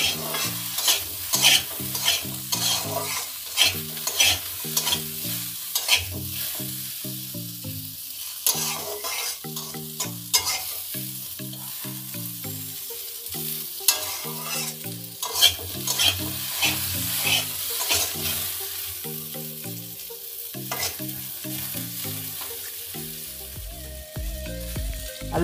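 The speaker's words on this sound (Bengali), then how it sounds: "আলুটা ভেজে নিচ্ছি" Potato pieces fry in a pan for a Bengali bitter gourd and potato curry, with a soft, continuous sizzle and repeated scraping strokes as a spatula stirs them, close and alone.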